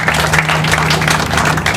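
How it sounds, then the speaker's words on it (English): Audience applause at a groundbreaking ceremony for Ella at Carillon: a dense, steady wash of clapping from a crowd that holds at an even, fairly loud level throughout, with no talk over it. "Give RPAI a round of applause."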